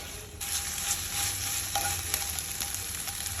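Paprika and wood ear mushrooms stir-fried briefly in oil for japchae, a steady close sizzle with soft scraping strokes of a utensil in the pan.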